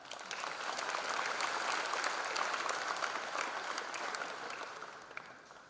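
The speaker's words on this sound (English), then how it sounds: "Yes, now you can give the clap." An audience of students at a college freshers' induction program claps in a sustained, even round that carries on unbroken for several seconds, moderately distant in a large hall, and tails off at the end.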